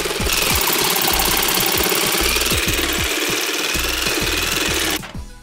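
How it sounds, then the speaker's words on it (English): A jigsaw cuts a letter shape out of pallet wood, its blade chattering in a loud, steady reciprocating buzz with rhythmic knocking pulses for about five seconds before stopping abruptly. "it's time to cut out the letter with my jigsaw"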